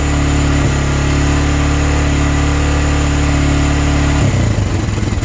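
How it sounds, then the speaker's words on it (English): A 1999 Arctic Cat 300 4x4 ATV engine idles steadily and loudly up close, then the tone drops and turns rough and uneven near the end as it bogs under throttle. "So it idles fine, but then if you give it throttle,"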